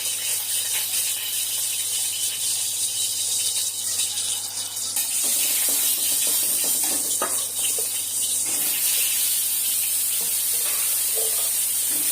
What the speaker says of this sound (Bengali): পটলটাই ভেজে ফেলি